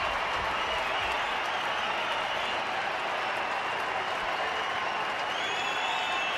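Roaring crowd at a baseball stadium during a pitcher's at-bat, a dense, steady wash of cheering and clapping that holds loud and unbroken throughout.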